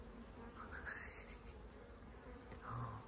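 Honeybees hum around an opened beehive as frames are inspected, a dense, continuous drone of many insects close by, steady with small swells and no talk.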